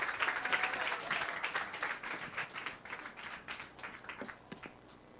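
An audience at a live youth church worship service claps to welcome a missionary speaker, with steady dense applause that slowly thins and fades, ending in a few sharper individual claps.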